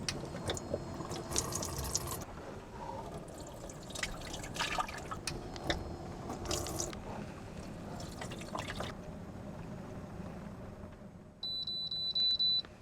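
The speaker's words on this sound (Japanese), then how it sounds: "ここからお湯を汲んでこの上に入れます。" Hot water is scooped and poured into a container inside a used camper van, giving several close bursts of splashing and trickling with pauses between them, then a faint electronic beep near the end.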